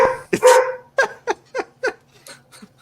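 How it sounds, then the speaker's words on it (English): A dog barks nearby, one loud bark followed by a series of shorter, evenly spaced barks that fade toward the end, with no one talking. "That was my dog barking."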